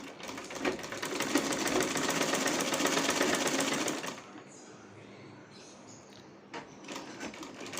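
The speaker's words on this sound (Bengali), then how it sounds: "হাতার এবং বডির দুইটা কাপড়েই ডবল সেলাই দিয়ে দিচ্ছি।" A sewing machine runs a double line of stitches joining a sleeve to a garment body, a loud, fast, steady mechanical rattle for about four seconds that then stops, leaving quiet handling sounds.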